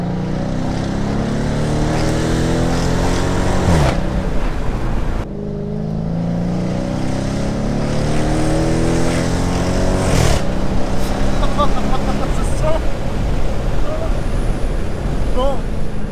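A Dodge Challenger R/T muscle car roars hard under acceleration, its engine pitch climbing steadily and breaking at each gear change, loud and close with wind rush throughout.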